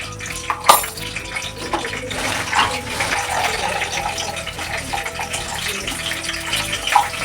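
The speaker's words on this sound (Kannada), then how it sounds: "ಎಣ್ಣೆ ಕಾದಾದ್ಮೇಲೆ ಸಾಸಿವೆ, ಹಿಂಗೆ ಸಿಡ್ದಾದ್ಮೇಲೆ ಉದ್ದಿನಬೇಳೆ ಹಾಕೋತಿದ್ದೀನಿ." Mustard seeds and urad and chana dal lentils sizzling in hot oil while tempering a citron rice dish, a steady hissing fry with small pops and crackles at close range throughout.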